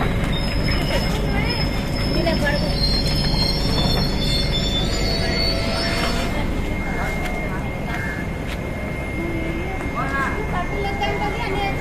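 Amaravati Express pulling into Bellary Junction, with loud continuous rail rumble and high metallic wheel squeal lines running throughout, people talking faintly in the background.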